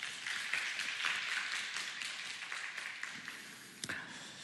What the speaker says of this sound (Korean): 박수로 축복하도록 하겠습니다.